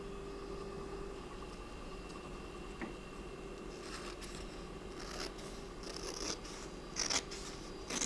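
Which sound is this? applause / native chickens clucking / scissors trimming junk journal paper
scissors trimming junk journal paper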